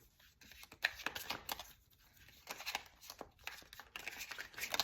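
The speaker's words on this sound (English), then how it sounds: "These cards are kind of hard for me to shuffle them." Tarot cards being shuffled by hand, a series of soft, irregular riffling and sliding bursts, close and fairly quiet, with brief pauses between handfuls.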